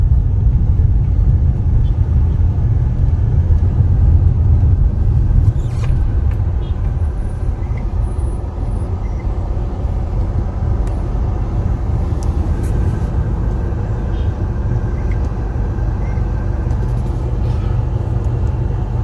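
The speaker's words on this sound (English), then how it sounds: "As you can see, a lot of traffic today." Busy road traffic in Santa Cruz, St. Elizabeth, Jamaica, a steady low rumble of passing cars and buses with an occasional air-brake hiss, continuous and fairly loud throughout.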